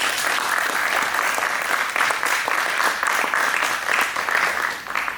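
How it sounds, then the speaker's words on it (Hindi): A modest-sized audience in an auditorium gives a hearty round of applause, dense continuous clapping that holds steady for several seconds before easing slightly. "बड़ी ताली के साथ जरूर देना चाहेंगे।"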